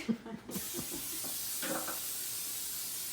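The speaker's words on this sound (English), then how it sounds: "So I'm going to give the pan a good spray with Pam." A steady aerosol hiss of Pam cooking spray onto a pan, continuous and fairly close, lasting most of the clip after a brief moment of low talk at the start.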